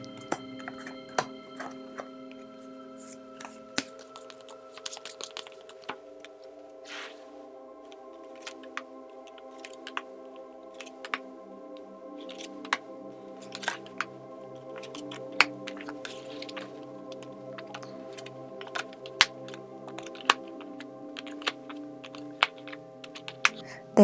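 Tarot cards being shuffled and drawn for a love and contact reading, giving a steady run of soft, close clicks, taps and card slaps over a faint tonal hum, with no talking.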